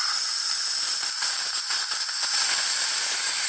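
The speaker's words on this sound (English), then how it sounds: "I have an actual 1/4 inch ball valve, okay? So we're going to crack this open just a little bit." Compressed air hisses steadily from a quarter-inch ball valve cracked slightly open on an ultra quiet air compressor, a loud continuous close-up hiss with no talking.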